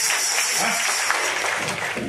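An audience clapping together, a dense, bright wash of applause that holds steady for a couple of seconds, loud and close, with voices faintly mixed in.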